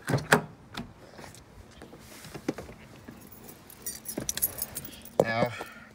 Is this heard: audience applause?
no